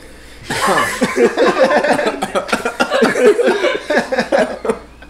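A man coughs repeatedly in a rapid, rough series of bursts, mixed with chuckling or laughter, loud and close to the microphone.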